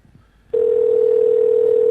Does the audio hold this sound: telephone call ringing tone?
yes